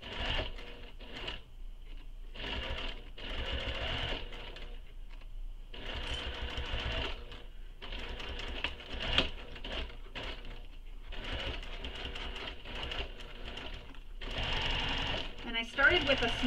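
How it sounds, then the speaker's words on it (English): A sewing machine bastes fabric with a long stitch length while a mini crossbody bag is being made, running in close, rhythmic stitching bursts with brief stops in between. A voice talks now and then beside the machine. "now I'm going to baste this in place. And you can use a long stitch length for this."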